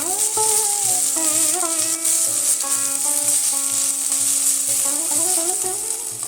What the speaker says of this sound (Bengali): আদাটাও ভাজা ভাজা হয়ে এসছে